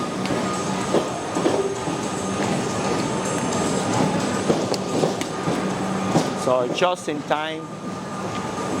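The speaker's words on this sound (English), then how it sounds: "my train is arriving and we're gonna go and get into the train" A train pulls into a Melbourne station with a steady rumble of wheels and carriages, then high squealing brakes as it slows, while a person talks nearby.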